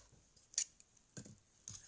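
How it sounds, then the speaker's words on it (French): Paper card being cut with a craft knife for a pop-up card, a few faint, short scraping slices close by in a quiet room. "Avec le cutter, des fois, on a du mal à faire."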